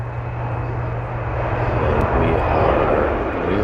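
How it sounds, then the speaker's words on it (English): A Boeing 747 named Cosmic Girl, carrying a rocket, takes off from a runway, its engines giving a steady, loud, broadband roar that swells slightly toward the end, with a voice speaking over it. "Cosmic Girl is now on the runway taking off."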